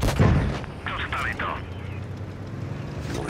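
Tank cannon fire in World of Tanks Blitz, a loud close boom at the start followed by rumbling battle noise and mechanical whirring, with someone talking over it.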